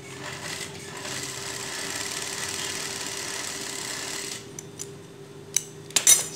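A sewing machine stitching a girl's dress runs in a steady continuous whir for several seconds, then stops, leaving a few sharp clicks and handling knocks close by with no talking.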